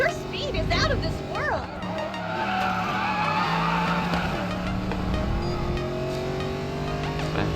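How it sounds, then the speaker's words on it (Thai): A Mercedes SL63 in the Racing Master video game accelerates hard with a sustained engine whine and squealing tire skids, loud and continuous, with a voice talking over the game sound. "ดูครับความอัตราการเร่งของคันนี้อย่างเวอร์"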